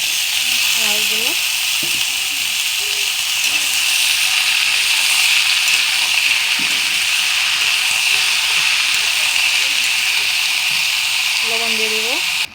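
Pieces of bottle gourd sizzling in hot oil in a pan, a steady, loud hiss lasting throughout, with someone speaking briefly over it at the start and end.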